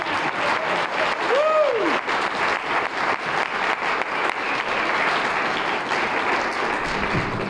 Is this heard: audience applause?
yes